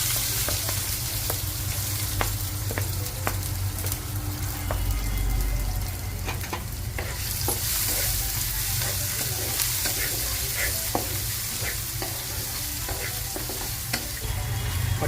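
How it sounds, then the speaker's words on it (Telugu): Raw onions hit hot oil with tempered seeds for a fibre-rich samosa filling, producing a loud, steady frying hiss with frequent clicks and spatter pops of the spoon stirring, close and continuous throughout. "ఇప్పుడు పచ్చి ఉల్లిపాయలు వేయండి"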